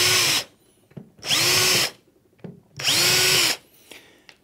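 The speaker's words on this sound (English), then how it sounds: "Taking your drill, drill 3 pilot holes." A power drill whirs loudly in three bursts of under a second each, drilling pilot holes in a furniture base unit, with short quiet pauses and faint handling clicks between them.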